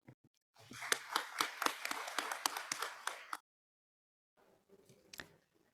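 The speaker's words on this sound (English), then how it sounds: "So please give them a round of applause and thank you." A short round of applause from participants at an Asia Pacific regional consultation session, scattered and fairly sparse, fading out after a few seconds before a faint brief patter returns, no talk over it.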